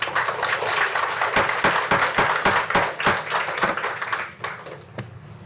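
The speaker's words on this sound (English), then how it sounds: "I would ask you not to clap." An audience at a City of Franklin Board of Mayor and Aldermen meeting claps in a burst of sharp, distinct hand claps that thin out and fade away near the end.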